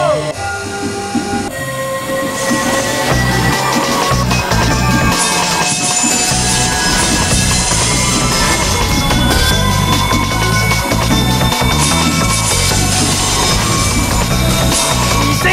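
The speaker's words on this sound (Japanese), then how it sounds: "間もなく競技列車が発車いたします" A train in the Densha de D racing game, set on the Tobu Tojo Line, pulls away and builds speed under a loud, continuous rumble with rising motor tones and layered electronic game music throughout.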